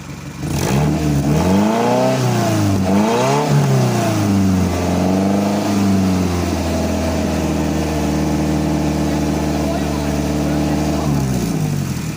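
A car engine revs up and down in repeated rising and falling sweeps, then settles into a steady loud idle, with a voice speaking over it near the start.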